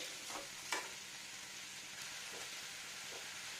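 Fish roe and raw pumpkin fry in a pan, giving a steady, even sizzle with a few faint pops and scrapes, close and continuous with no talk.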